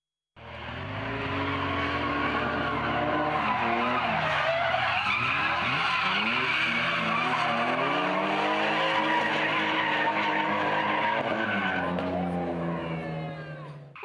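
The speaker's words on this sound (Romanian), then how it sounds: "câțiva șoferi și-au demonstrat maestria la un mini-turneu de drift de la Vatra" Drift cars at a mini drift tournament in Vatra, one continuous loud skid with tires squealing and the engine droning and shifting pitch for well over ten seconds, close by.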